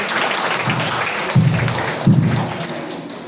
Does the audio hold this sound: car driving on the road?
no